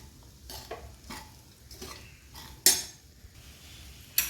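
A spoon stirring millet flakes upma together with boiled moong dal in a pan, soft scraping strokes with a couple of sharp metallic clinks against the vessel, close and fairly quiet, no talking.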